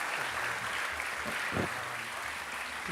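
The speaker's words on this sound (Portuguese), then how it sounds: "Um grande aplauso para Armando Jorge." Applause from an awards gala audience honoring Armando Jorge, a steady dense wash of clapping sustained throughout at moderate level, with faint low murmurs underneath.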